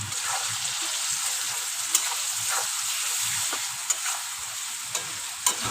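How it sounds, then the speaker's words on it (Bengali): Shrimp and fig curry with chili powder and salt fries in a pan, a steady close sizzle broken by a few sharp clicks of a spoon stirring against the pan. "ভালো করে এটাকে কষাবো।"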